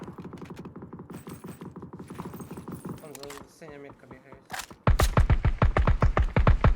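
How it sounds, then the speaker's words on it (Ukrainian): Rapid bursts of gunfire in a shooter video game, first a steady run of shots, then a louder, heavier volley near the end, with a player talking partway through. "Це синя сторона по нам стріляє."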